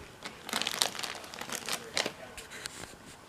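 A young child rummages through plastic bags, producing close, uneven bursts of crinkling and rustling that come in quick clusters with short pauses between them.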